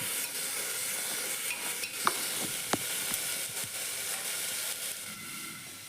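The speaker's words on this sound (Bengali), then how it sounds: "তারপর কাঁচা কড়াইটা দিয়ে ভালো করে একটু নাড়াচাড়া করে দিতে হবে মানে একটু ভাজা ভাজার মতো করে নিতে হবে" Raw dried peas are stirred and fried in spiced tempering for ghugni, a soft continuous sizzle broken by a few distinct scrapes and taps of a spatula in the pan.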